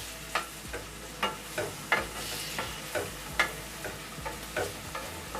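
Cut tomatoes stirred into frying onions in a pan for prawn gravy, giving a soft sizzle under a dozen or so light, evenly spaced scrapes and taps of a spoon, fairly quiet and close, with no voices.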